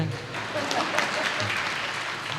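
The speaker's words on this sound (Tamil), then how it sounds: "ஏன் கைத்தட்ட மாட்டேங்கிறீங்க?" Crowd clapping at a Tamil comedy gathering, a dense continuous patter of many hands with some voices murmuring underneath.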